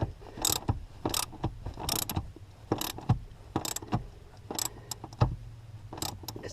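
Seat bolts are tightened on a Lexus GX seat jacker install with a ratchet, giving a series of close, sharp metallic clicks and clunks in irregular bursts, with quiet gaps between.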